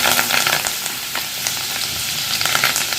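Garlic and curry leaves sizzling hard in hot oil for a chivda, a loud crackling fry with sharp spits and pops throughout, close up and without voices.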